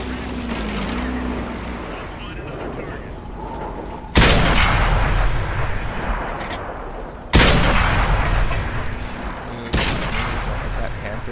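Tank cannon shots in World of Tanks on Xbox One from an AMX Chaffee battle: three sharp, loud blasts spaced a few seconds apart over engine rumble and battle noise, with a voice talking throughout.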